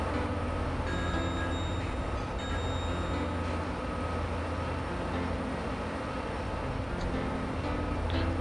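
A train runs in the OpenTTD video game with a continuous, steady rumble of rolling wheels and carriages that stays loud and even throughout, with no talking over it.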